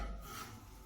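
A steady, soft rasping scrape of a drywall knife dragging continuously over drywall compound, close and quiet with no voices.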